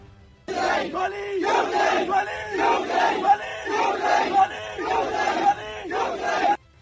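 A large crowd at a political march in Pakistan chants a slogan in loud, rhythmic unison, repeating the same short phrase over and over for several seconds.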